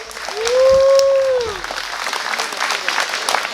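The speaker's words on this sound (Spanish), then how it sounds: "Fuerte los aplausos." Clapping from a wedding crowd in Xochistlahuaca, a steady patter of many hands running under the whole stretch, with a loud held tone and whistle-like sounds in the first half.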